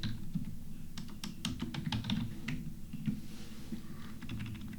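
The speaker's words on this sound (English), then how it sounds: "I'm going to actually get my text tool here and type in big city" Quick, light key taps on a computer keyboard come in a fast uneven run as text is typed into Photoshop, close and clear over a low steady room hum.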